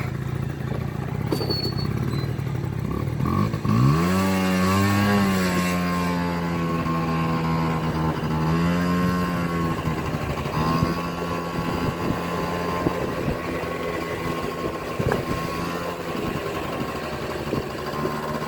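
A nearby Honda Dio scooter with a new piston kit revs up and down in rising, falling whines, then drones along steadily as it rides off.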